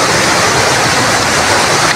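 Strong, murky floodwater rushes and falls down a rocky creek, a loud, dense, unbroken roar close by with no other sounds standing out.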